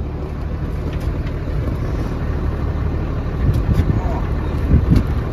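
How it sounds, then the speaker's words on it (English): A tractor engine rumbles steadily in cold weather as the machine is rocked back and forth, with surges of louder low rumble toward the end and wind buffeting the microphone throughout. "Trying to rock the tractor back and forth to spin it."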